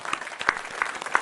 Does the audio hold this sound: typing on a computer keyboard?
no